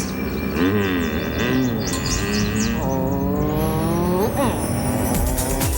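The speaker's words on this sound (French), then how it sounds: "Conduire la Sunfire GTO de Pontiac avec son moteur de 120 chevaux et son aileron arrière est une expérience unique." A Pontiac Sunfire GTO with a 120-horsepower engine and a rear spoiler drives past, its engine note rising and falling through gear changes, loud and steady, with chirping and a squeal laid over it.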